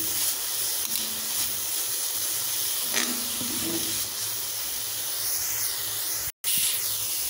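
Grated beetroot sautés in ghee with a constant, close hiss and sizzle, a few faint utensil taps, and a momentary cutout near the end.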